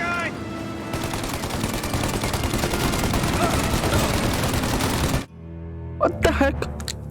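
Sustained gunfire in Mafia: Definitive Edition rattles loudly and almost without a break for about five seconds, then stops abruptly, leaving a brief shouted voice in the quiet that follows.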